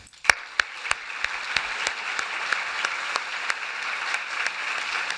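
A gala audience applauds as the PHR Award is presented to the Panzi Hospital Sexual Violence Survivors Unit: a steady wash of clapping with several sharp, loud individual claps standing out near the front, sustained for about five seconds without speech.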